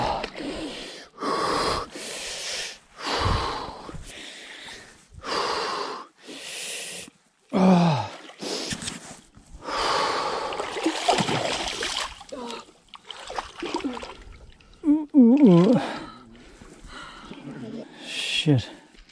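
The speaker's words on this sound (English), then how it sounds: "We decided not to add music so you could hear his breathing and moaning." A hiker in Ormiston Gorge in the West MacDonnell Ranges of Australia breathes heavily into a chest-mounted camera. Close, rhythmic gasping breaths and strained moans come in repeated bursts separated by short pauses.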